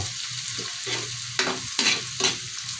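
Butter melting and sizzling in a very hot pan with garlic, stirred steadily, with a constant frying hiss under several sharp scraping stir strokes, close and alone.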